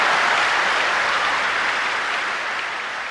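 A room full of people cheering and applauding an announcement about opening an international airport, a dense, steady roar of clapping and cheers that holds loud throughout and eases slightly at the end.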